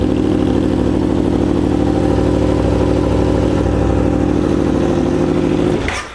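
An Aprilia RSV4R sport motorcycle fitted with a GPR Thunder Slash exhaust runs loud and close with a steady, throbbing engine note, then cuts off abruptly just before the end.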